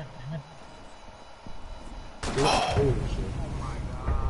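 Pistol fire in the Rainbow Six Siege video game: a loud sharp burst of shots starting partway through, with ringing, over in-game noise as players talk.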